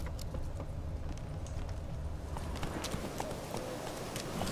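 Galloping hooves of the horse Roach in The Witcher 3, a fast steady clip-clop rhythm running continuously and close, with faint background ambience.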